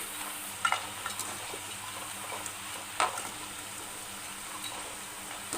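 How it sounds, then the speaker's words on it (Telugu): Onion pakodas deep-frying in oil, a quiet steady sizzle with a few soft knocks and scrapes as they are turned, with no voices. "కొంచెం తిప్పుతూ ఉండాలి. పకోడీలను క్రిస్పీగా అయ్యేంత వరకు వేయించుకొని"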